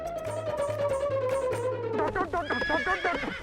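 A horse gives a long, loud whinny that slides downward and breaks into a fluttering neigh, close by. A steady, low, rhythmic thumping runs underneath, like hooves clip-clopping.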